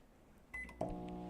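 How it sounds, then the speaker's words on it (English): Microwave oven switched on to high for cooking cauliflower pizza crust, with button beeps followed by a click and the steady low hum of the running oven, quiet and close. "Into the microwave."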